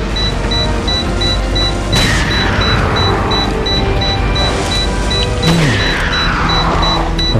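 Two booming bomb blasts with falling whooshes over a steady, loud soundtrack during the Krauser and Saddler boss battle in Resident Evil 4 Separate Ways, the second explosion followed by a descending tone.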